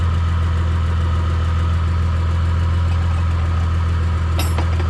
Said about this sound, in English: Phil, start it up again and step on the brake.